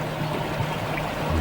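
Water trickling and pouring through wet stone filter media at a koi pond, a steady close splashing flow with no pauses.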